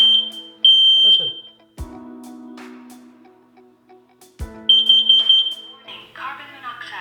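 During its test, a smoke and carbon monoxide combo alarm gives sharp high beeps in two groups, with a recorded voice announcing a warning between them, loud and close in a quiet room.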